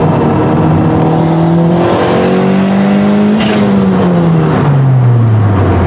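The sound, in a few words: turbocharged B18 Honda Civic driving and accelerating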